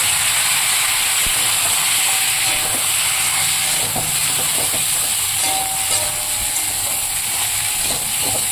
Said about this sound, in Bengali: সেই তেলে আলু আর ফুলকপিটা ভেজে নেব